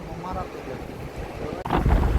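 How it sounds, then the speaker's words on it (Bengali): Stormy wind sweeps across Guliakhali sea beach at Sitakunda during rain, buffeting the microphone in a rough, loud rumble that surges near the end, with voices briefly underneath. "সাথে সি বিচে বৃষ্টি এবং হচ্ছে ঝড়ো বাতাস"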